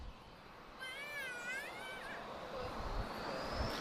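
A baby's excited, warbling squeals rise and fall over the steady roar of jet aircraft at Lisbon Airport, with a voice talking faintly in the background.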